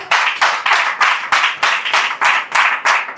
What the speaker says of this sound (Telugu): గట్టిగా చప్పట్లు కొట్టాను